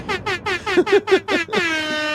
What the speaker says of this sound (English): Oh, where's my air horn?